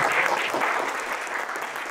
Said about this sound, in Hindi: मैं एक बार खड़े होकर उनके लिए भी ताली बजाना चाहूंगा